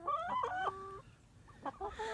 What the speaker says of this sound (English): he just started crowing this week actually